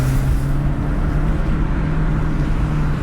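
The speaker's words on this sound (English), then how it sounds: "Do a couple of pulls in third gear from about 30 miles an hour." A VW Golf MK4 GTI 1.8T pulls hard in third gear from about 30 mph, its engine a steady, loud, continuous drone with a low constant hum through the whole stretch.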